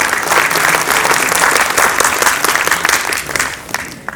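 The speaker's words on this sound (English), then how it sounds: "Can we please have a round of applause for him?" Steady applause from a conference audience at a panel discussion, dense and sustained for several seconds before tapering slightly toward the end.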